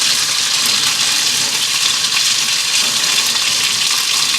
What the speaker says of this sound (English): I'm going to get that rolling here while I saute these mushrooms